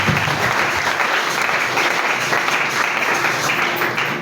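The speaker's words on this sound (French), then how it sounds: "Est-ce que nous pouvons acclamer d'abord le Seigneur?" A church congregation claps and cheers together in sustained, loud applause acclaiming the Lord, a dense steady wash of hands filling the room throughout.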